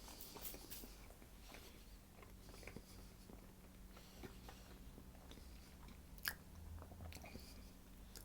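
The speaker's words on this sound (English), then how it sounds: "so I'll have a taste of this" Soft vanilla sponge cake with plum pieces being chewed close by, a quiet moist mastication with faint crunchy bites over a low hum, no talking.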